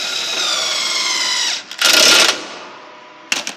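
A power driver whirs as it runs in a bolt to stretch the closing wheel spring on a John Deere 7000 planter. A sustained whine is followed by two short, loud bursts up close.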